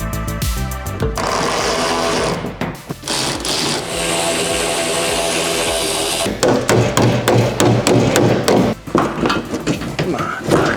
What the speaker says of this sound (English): Let's get this bumper off.